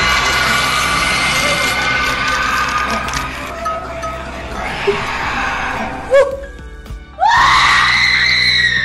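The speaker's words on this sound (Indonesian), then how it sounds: "Semua mayat lain mulai menghancurkan kotak dan berteriak." Shrill screaming rises and falls over a steady rumbling background, with clattering as boxes are smashed and a sharp rising wail near the end.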